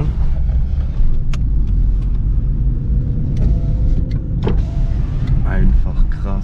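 A Fiat Punto converted to a 25 km/h moped car idles and rolls off, a low steady engine rumble inside the cabin with small clicks and rattles, while people talk over it.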